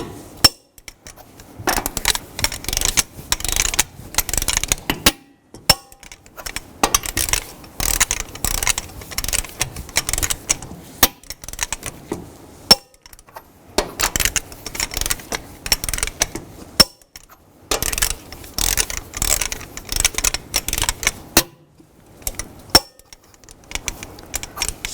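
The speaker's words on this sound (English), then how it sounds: "Now I'm going to torque the lug nuts in a cross pattern to 140 foot-pounds." Torque wrench clicking as lug nuts on a 2010-2017 Chevrolet Equinox are tightened in a cross pattern to 140 foot-pounds, bursts of ratcheting and metallic clicks repeating in several rounds with short pauses between, close and fairly loud.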